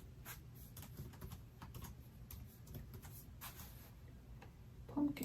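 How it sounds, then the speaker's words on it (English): Fast typing on a computer keyboard during a livestream, a quiet, irregular patter of light key clicks close by, with no talk over it. "I feel like I'm typing so slow right now."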